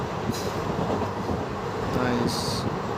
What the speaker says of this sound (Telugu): ట్రైన్ రన్నింగ్లో ఉంది